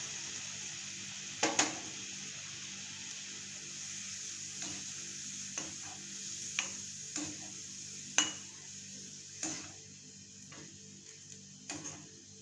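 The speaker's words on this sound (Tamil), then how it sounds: "குழம்பு நல்லா கொதிச்சிருச்சு." A pan of shallot kuzhambu, a Tamil curry, simmers at a steady bubble, with soft sizzling and scattered faint ticks and pops as the sauce boils, close and fairly quiet with no talk.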